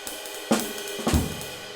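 A short jazz drum phrase with cymbal wash and two sharp accented hits, one near the start and another about halfway through.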